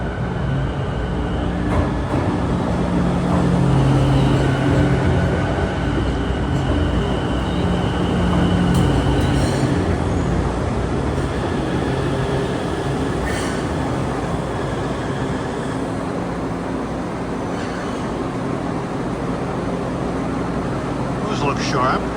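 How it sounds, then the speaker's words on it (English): A newer MBTA tram passes in Boston with a loud, steady rolling rumble and motor whine, some brief wheel squeal and clanks, while someone talks over the noise. "Well, here comes one of the newer trams."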